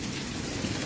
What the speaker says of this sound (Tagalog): Hindi po natigil ang ulan.